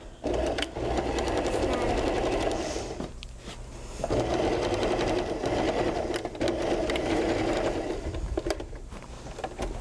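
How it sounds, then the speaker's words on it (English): A sewing machine restitches a slipped seam in two long, loud runs of rapid, steady stitching, separated by a short pause. "So we're just gonna quickly restitch that."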